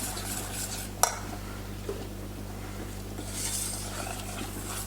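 Mornay sauce is worked with a whisk in a stainless steel pot, a soft continuous stirring hiss with a sharp metallic tap near the start and a fainter clink later.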